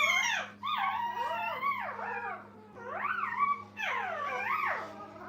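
Puppies in a training kennel whine and howl in long, wavering, overlapping cries, rising and falling in several bursts over a steady low background hum. No one speaks.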